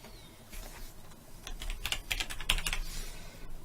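Fingers type on a computer keyboard while coding an HTML and CSS web page, a close run of light, irregular key clicks that starts sparse and then grows denser with quick bursts, with no talking.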